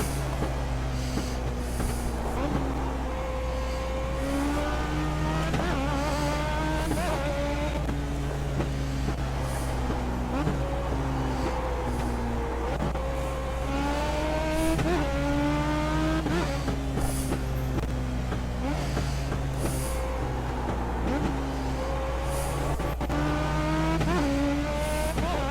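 A Legend race car in the iRacing sim roars steadily while rising and falling engine pitch marks repeated gear shifts over a constant low drone, with no talking.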